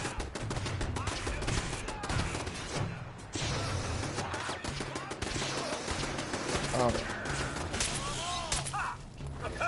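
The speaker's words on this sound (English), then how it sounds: "I'm merely shooting you with bullets." Rapid gunfire in the video game Fallout 4, dense bursts of automatic shots and impacts crackling continuously and loudly while someone talks over it.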